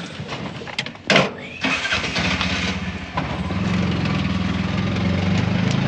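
An auto rickshaw's small engine sputters to life with a brief burst, then settles into a steady rattling idle close by.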